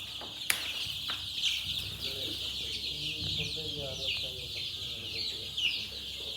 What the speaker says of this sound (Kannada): ನಾಟಿ ಕೋಳಿಗಳು